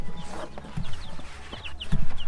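Young Rhode Island chicks peep in quick high chirps mixed with soft low clucking, close by and fairly busy, with scattered rustling between calls.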